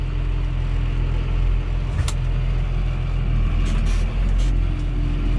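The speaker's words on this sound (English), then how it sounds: "I'm gonna start my PTO up first." A John Deere 7130 tractor idles in a steady, loud diesel rumble as its PTO engages to drive a manure spreader, with a brief clank and faint squeaks along the way.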